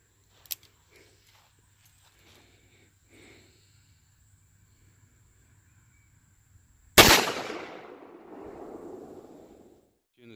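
A single loud .44 Magnum revolver shot at soda bottles cracks sharply after a quiet stretch, followed by a rumbling outdoor echo and spattering debris that fades over a few seconds.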